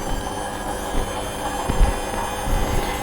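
A washing machine drains aboard a Carver 3207 boat, a steady low rumbling drone with faint irregular knocks and a slight shudder, fairly quiet and continuous.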